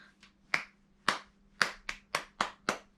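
Hands clap out a rhythm in a quiet room, with seven or eight crisp, close claps at uneven spacing, some quicker pairs and one longer gap near the start.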